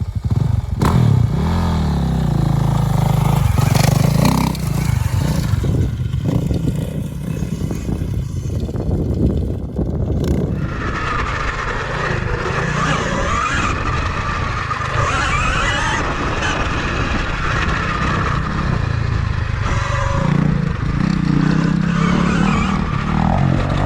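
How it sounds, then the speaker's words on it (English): Dirt bikes including a Honda CRF 450R riding nearby, engines roaring and revving loudly throughout with passes and throttle changes, no talk. "We're out here riding with Will and Richard. Will's on a CRF 450R."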